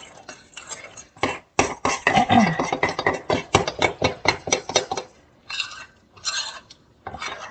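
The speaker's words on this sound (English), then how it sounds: "I'm going to mix it, and I'm just going to add some flour to it." Sourdough starter being stirred with added flour in a container, a rapid series of close scraping, clattering strokes over several seconds, then a short pause and a few more stirs.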